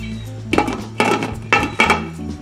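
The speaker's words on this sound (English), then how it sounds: "Let's put the lid back on." A metal lid goes onto a pot of seafood gumbo with several close clattering knocks and rattles in quick succession as it settles into place.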